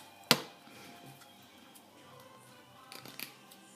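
Scissors make one sharp close snip through a cord on a Cricut-made Christmas tag, followed by quieter handling rustles and a few small clicks.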